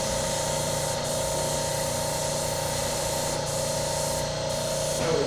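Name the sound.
airbrush spraying ink on scratchboard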